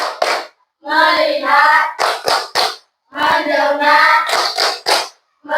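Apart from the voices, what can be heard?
class doing the "tepuk fokus" clapping routine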